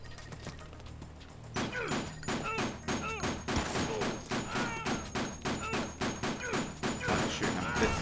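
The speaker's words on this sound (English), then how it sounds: "I'm shooting him a bit fast here." Rapid gunshots fired at Carlito in the game Dead Rising, a steady run of sharp, evenly spaced shots repeating close and loud over constant background game noise.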